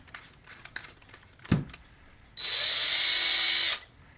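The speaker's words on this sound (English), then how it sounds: "What if we put our 19 thousandths inch bit into this pin vise, and then we put this pin vise in here?" Drilling plastic with a 19-thousandths-inch bit held in a pin vise, a few small handling clicks and a knock, then a loud steady high whine of the power tool running for over a second and stopping abruptly.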